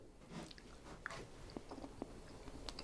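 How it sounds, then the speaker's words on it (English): Quiet, close chewing and biting on roast pork loin, with soft wet mouth sounds and a few small crunches against a faint outdoor background. "I'm sorry if you hear the mouth juices going on, because it's where the microphone is"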